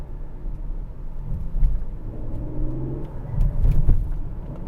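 A Ford Explorer ST engine in sport mode growls with a low, rumbling throb that swells as it revs, steady and close throughout.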